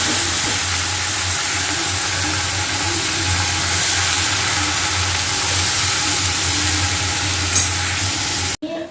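Drumstick leaves tossed into a hot pan with banana blossom, giving a steady, fairly loud broadband frying sizzle that holds evenly throughout before cutting off abruptly at the end.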